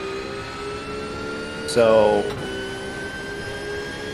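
Race car engines at the 24 Hours of Daytona, one car roaring past briefly with a rising then falling engine note over steady track noise while a commentator talks.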